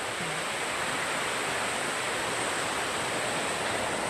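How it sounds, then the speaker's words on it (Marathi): A stream or flowing water on a trek through a Konkan village near Dapoli gives a steady, dense rushing wash that stays level and continuous throughout, with no voices. "छान वाहत्या पाण्याचा आवाज येतोय"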